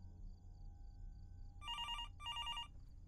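A telephone rings twice in Fears to Fathom: Norwood Hitchhike, two clear electronic trill bursts over a quiet, low background hum.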